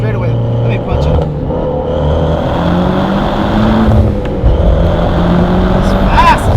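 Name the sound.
2008 Mitsubishi Evo X on E85 accelerating hard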